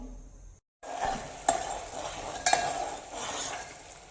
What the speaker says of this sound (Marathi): साखर पूर्ण वितळेपर्यंत आपल्याला हलवून घ्यायचं आहे